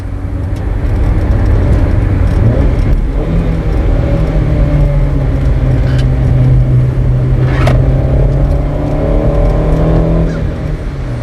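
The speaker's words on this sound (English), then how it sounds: "pay particular attention to the engine sound as we go through the turn" A car engine revs loudly and continuously from inside the car as the driver blips the throttle through a turn, the engine note rising and falling in pitch as it is kicked higher.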